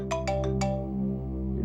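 A phone ringtone for an incoming call plays four quick bright chime notes, then a lighter trailing tone, close and clear over a low steady hum.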